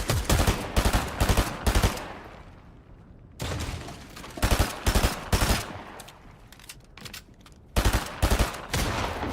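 Rapid bursts of gunfire in the Fortnite-style building game as a player shoots apart a wooden box, clustered volleys of loud close shots separated by brief quieter gaps with no talk.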